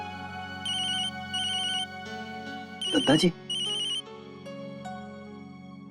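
An electronic telephone ringtone chimes in repeated short bursts inside a home during a Hindi family drama. It plays over a steady background tone, and a voice comes in briefly partway through.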